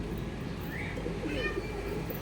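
Pigeons of Chennai Madras and Andhra Madras breeds coo softly in a loft, with low murmuring calls under steady background noise and no clear talking.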